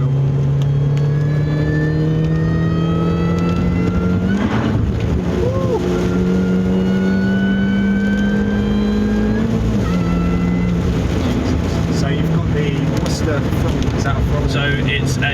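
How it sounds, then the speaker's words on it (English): A supercharged Mini Cooper S R53 revs, its engine note rising and falling with a thin supercharger whine running steadily over the drone, close and loud, while someone talks throughout. "The supercharger on this car, when it's whining, sounds absolutely phenomenal."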